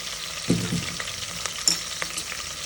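Onions frying in a pan for donne biryani, a steady close hiss of sizzling oil with a few stirring clatters and scrapes, no voices.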